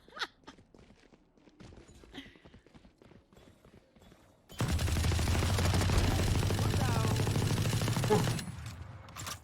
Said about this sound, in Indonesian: Tembakan non-stop dari Indi.